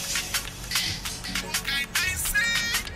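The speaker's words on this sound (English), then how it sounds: "your phone is ringing" A bright electronic phone ringtone plays a repeating melodic pattern with punchy beats, loud and close, with no talking over it.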